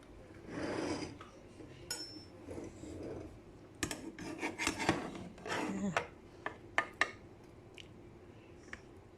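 Cooked shrimp are scooped out of a cooking pot with scraping, rustling stirs followed by a series of sharp metallic clinks and taps, close but fairly quiet.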